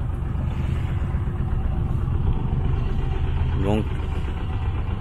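Sailboat engine idling while it runs the fridge and charges batteries, a steady low rumbling drone close by, with someone speaking briefly over it.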